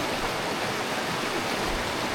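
Steady, full rush of a strong stream current at a water crossing on the Havasupai trail, a dense broadband roar holding constant throughout with no voices.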